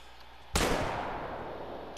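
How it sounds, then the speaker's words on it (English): A single rifle shot from a bison hunting video game cracks sharply and loud, then rolls off in a long decaying echo across an open outdoor soundscape. "Matt, I have a shot. I don't think I hit"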